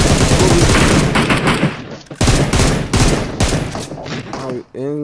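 Rapid automatic gunfire in PUBG Mobile on the desert map Miramar, loud, close bursts cutting off and restarting, ending with a short voice or effect.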